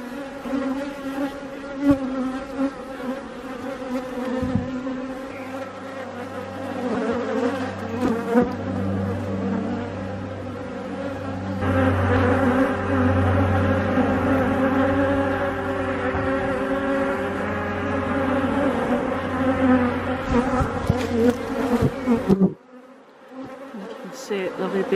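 Honey bees drone steadily around an open apiary hive on a summer inspection day, a dense continuous buzz with a low hum underneath for most of the stretch before it cuts off near the end.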